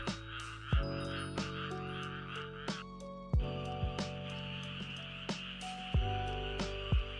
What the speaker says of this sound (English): We unlocked something new here. Yeah, frog calls